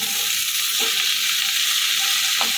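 Kolmi greens sizzle and are stirred in a pan with no added water. A loud, steady frying hiss fills the scene, with a couple of soft scrapes of the spoon.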